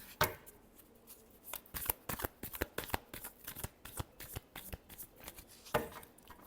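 Tarot cards are shuffled by hand in a quiet room, a faint, rapid series of crisp slaps and flicks with irregular rhythm, ending in a firmer snap.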